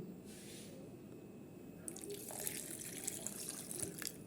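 Water poured into a blender jar holding carrot pieces, lemon juice and ginger, a close, quiet splashing and dripping stream that starts about halfway through and continues steadily to the end, with no talking.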